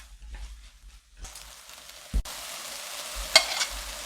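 Eggplant and nearly cooked meat are stir-fried in a pan. A quiet start gives way to steady sizzling, broken by a couple of sharp utensil knocks and scrapes against the pan.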